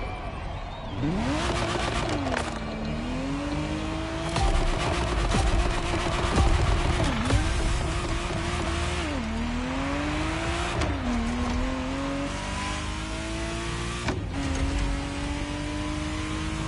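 A Ferrari Testarossa engine in The Crew Motorfest video game revs hard through repeated upshifts. Each gear climbs in pitch and then drops at the shift, with brief tire squeals. It is close and continuous, with faint talk underneath.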